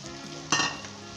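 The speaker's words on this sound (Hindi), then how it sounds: "मज़ीद हम 2 से 3 मिनट तक इसे अच्छे तरीके से जो है ऑयल के अंदर फ्राई करेंगे, सब्ज़ मिर्चों को, अदरक को और प्याज को" Green chillies, ginger and onion frying in hot oil give a steady, close sizzle, with one brief louder hiss burst partway through.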